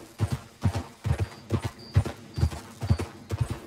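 Horse galloping in the video game Red Dead Redemption 2, rapid rhythmic hoofbeats in a steady three-beat pattern, close and moderately loud, with no talk over it.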